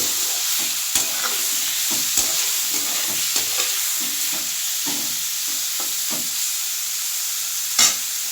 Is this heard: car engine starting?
no